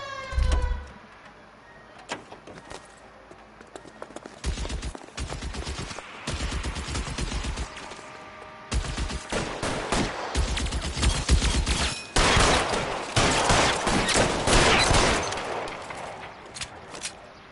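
Loud gunfire rings out in a video game shootout: dense volleys and rapid automatic bursts come in waves, separated by brief lulls, with no talking.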